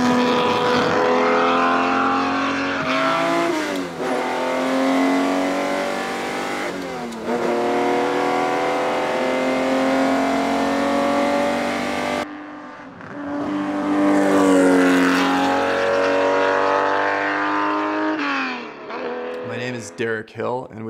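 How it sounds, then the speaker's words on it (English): A Ferrari 250 GTO 64 Series 2 engine roars and revs hard, rising and falling through gear changes, loud and close, with a voice talking over it at times. "the engine and the sound blaring out the back"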